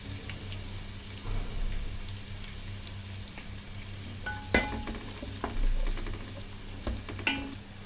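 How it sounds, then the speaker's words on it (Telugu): Turmeric being stirred into a fish curry base with curry leaves in a pan for bangaru teega fish pulusu: soft scraping strokes over a steady low sizzle, with a sharper clink near the middle and no talking. "ఇలా అంతా ఒకసారి కలియబెట్టుకొని"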